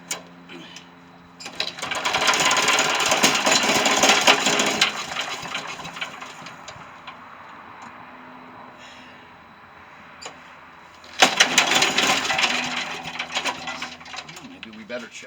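A vintage wood chipper engine is pull-started and runs in bursts: two loud, rough mechanical roars with a quieter stretch between them, each one rattling and clattering close by.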